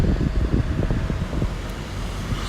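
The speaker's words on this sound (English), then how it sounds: "apologize for that noise, there's cars whizzing by" Steady roadside traffic rumbles and hisses as cars whiz past nearby, with wind buffeting the microphone throughout.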